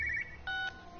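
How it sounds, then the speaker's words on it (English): Telephone in the game Everyone's Gone to the Rapture, a short electronic ring of two bright tonal bursts separated by a brief gap, fairly faint over a low background hum. "here's the phone. It's loud, isn't it?"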